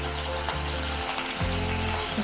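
Poppy seed paste frying with potatoes in a pan gives a steady, even sizzle throughout, over a low background hum.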